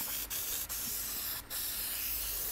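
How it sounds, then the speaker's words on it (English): A steady hissing spray from an aerosol can of battery terminal protectant on a golf cart's battery terminals, continuous and close, with a few brief pauses between bursts. "I will spray battery terminal protectant on there"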